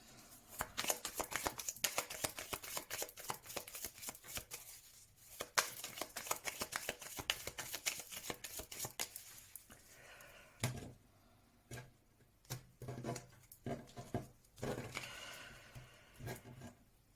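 A tarot deck is shuffled for a card reading: dense, rapid riffling and flicking of cards for about ten seconds, then a sparser run of separate slaps and taps, close and fairly quiet, with no talk.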